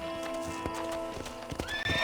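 Horse hooves clip-clop at a gallop in the Red Dead Redemption video game, with a whinny near the end and a steady music bed underneath.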